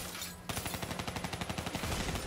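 Rapid automatic gunfire in the shooter Black Ops 3, a sharp onset followed by a quick even burst of about a dozen loud shots, with no talking.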